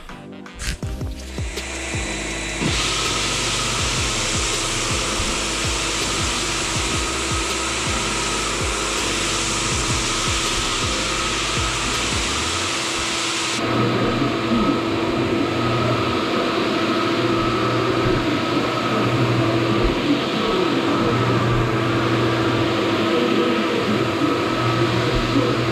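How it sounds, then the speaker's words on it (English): A floor buffer runs on a wood floor during sanding and refinishing work, starting up with a loud steady motorized whine and roar that continues without a break, its tone shifting partway through. "I'm gonna crank up this buffer."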